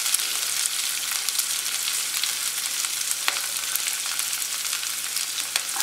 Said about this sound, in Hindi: आइए इसमें हम फ्रेंच बीन को डालेंगे और इसे अच्छी तरह से हिला देंगे।